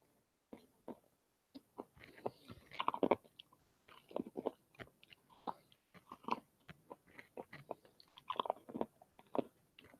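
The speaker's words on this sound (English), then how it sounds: "I'm sorry if you guys hear a lot of chewing noises." Someone chews dinner close to the mic in quiet surroundings, with repeated crunchy bites and wet mastication in irregular bursts, and no talking.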